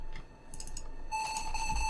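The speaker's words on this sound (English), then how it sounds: "And this right here, I think, is just a sine wave." A pure, steady sine wave synth tone hums alone, then gains brighter distorted overtones partway through, with a few soft clicks around it.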